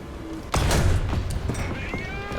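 A tank cannon fires in War Thunder, a sudden loud boom at about half a second that rolls into a long rumbling decay with battlefield noise underneath.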